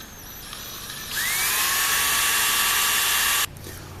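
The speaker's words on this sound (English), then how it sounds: "So I'm going to drill right down here inside his lip." A high-pitched power drill whines steadily for about two seconds as it bores into the lip of a wooden fish carving, starting and stopping abruptly, close and loud.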